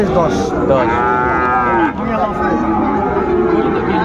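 Sahiwal bull calf mooing repeatedly and loudly up close on a farm, long drawn-out bellows filling the clip with faint background chatter.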